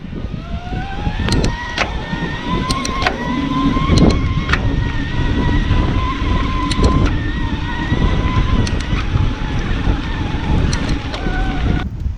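A 2021 Specialized Turbo Levo SL Comp Carbon electric mountain bike's motor whines in rising and falling tones under heavy wind rumble, with sharp clicks from gear shifts under load scattered throughout.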